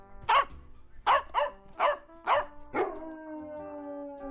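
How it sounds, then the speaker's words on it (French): Guard dogs barking, about six sharp barks spaced in an irregular rhythm, fairly close and loud, the last one trailing into a short howl-like tone. "Avec tous les chiens de garde derrière."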